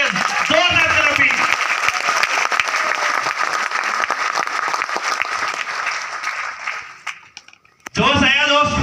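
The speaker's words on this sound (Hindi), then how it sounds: "जोरदार एक बार ताली होनी चाहिए, जोरदार ताली।" An audience at a leaders' meeting bursts into loud, sustained applause with cheering voices mixed in. The clapping fades briefly near the end before a voice picks up again.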